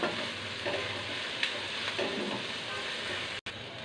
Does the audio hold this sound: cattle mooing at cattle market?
no